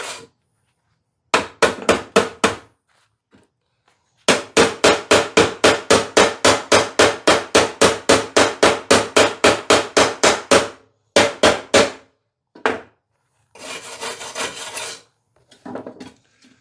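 Wire brush scrubbing a badly busted zero turn mower deck, loud rapid rhythmic rasping strokes in bursts with short pauses, close and harsh, ending in a longer scraping pass.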